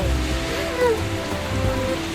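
Steady cartoon rain falls as a continuous soft hiss throughout, with faint tonal sounds drifting over it.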